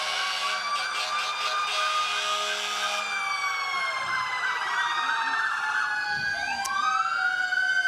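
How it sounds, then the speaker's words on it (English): A police car siren at the head of a parade wails, sweeping up and down loudly, with a second tone overlapping and shifting in pitch, steady and close throughout. "I know you hear those sirens."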